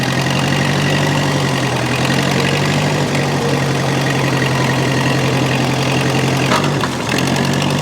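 A small engine on a fence wire installation gadget runs steadily in first gear, a loud, continuous idling drone with a faint knocking texture that holds evenly throughout.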